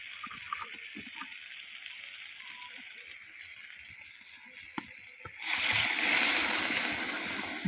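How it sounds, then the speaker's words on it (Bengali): Water is poured into a pan of rohu fish curry with new potatoes. After quiet clinks and faint simmering, a loud, continuous splashing gush of pouring liquid takes over near the end. "দেখো আমি জল দিয়ে দিয়েছি"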